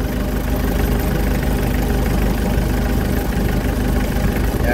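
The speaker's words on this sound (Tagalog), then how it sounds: "Yan yung kanyang makina." A 1998 Mitsubishi L300 FB van's engine idles smoothly and quietly, a steady low hum and rumble running unbroken throughout with no voices over it.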